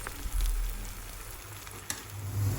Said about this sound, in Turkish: Zeytinyağı ısınınca piyazlık doğradığımız soğanlarımızı tavamızın içerisine alıyoruz.